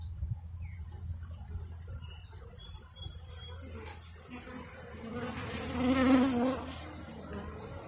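Italian honey bees from a new package buzz around a freshly installed hive, a dense droning hum close by with individual bees passing near and swelling louder for a moment, no talking.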